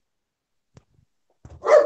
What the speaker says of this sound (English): That's neighbour's dog.